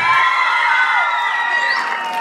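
Crowd at a jaripeo rodeo shouting and cheering in a sustained, loud wash of high voices and whoops, with no distinct claps standing out.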